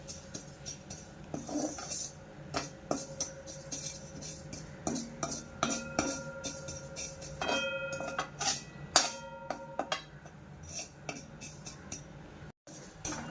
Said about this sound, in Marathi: खसखस भाजायला घेतली आहे आपण, ती थोडी भाजून घेऊया.